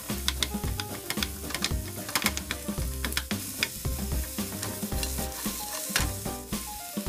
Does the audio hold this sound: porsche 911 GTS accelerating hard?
no